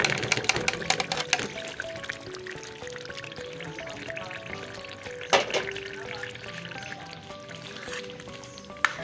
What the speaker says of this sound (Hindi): अब मैं ये चिकन डाल दूँ।